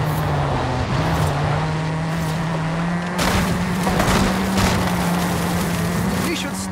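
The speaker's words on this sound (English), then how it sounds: "the effect of a speeding car on those beach loungers" Speeding car in a video game ploughing into beach loungers: a steady engine drone runs throughout while bursts of crashing impacts and clattering debris break in, the loudest around the middle, with a voice talking over part of it.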